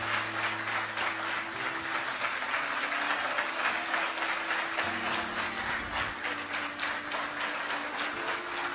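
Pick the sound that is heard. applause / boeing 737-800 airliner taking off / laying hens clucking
applause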